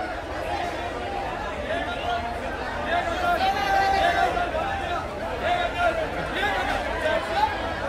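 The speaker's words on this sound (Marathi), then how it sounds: "हे बघा किती गर्दी बघा इथे, किती आहे" Dense crowd chatter fills the busy Bhaucha Dhakka wholesale fish market in Mumbai, a steady hubbub of many overlapping voices with no single speaker standing out, holding at an even, moderately loud level throughout.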